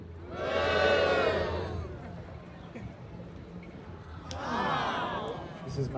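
A street crowd boos twice on cue, each a loud sustained swell of voices lasting about a second and a half, separated by a windy lull.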